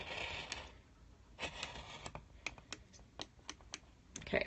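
An Olfa circle cutter rotates clockwise through two layers of doubled-over fabric, giving a soft scraping pass followed by a series of light, quiet ticks and clicks at close range.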